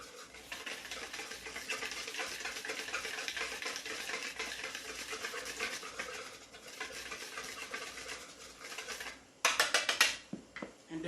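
Calamari batter is stirred in a bowl, giving a steady, close, wet scraping and swishing that runs continuously, then gives way to a few sharper clinks and taps near the end.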